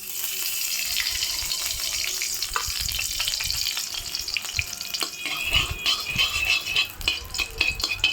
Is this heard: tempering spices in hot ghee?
yes